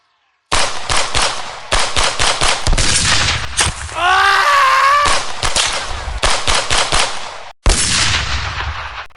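Loud, rapid gunfire rattles through a film battle scene in repeated bursts, with a wailing voice rising briefly in the middle.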